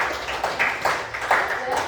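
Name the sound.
classroom applause for group 2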